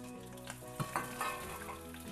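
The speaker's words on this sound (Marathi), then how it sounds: "हे बघा, सोबतच मोहरी घालायची आपल्याला." Spices crackling and sizzling in hot oil as mustard seeds and cumin go into the pan for Maharashtrian kadhi, a steady close fry with a few sharper pops.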